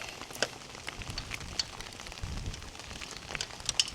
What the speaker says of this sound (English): Don't know how long it's going to be raining for.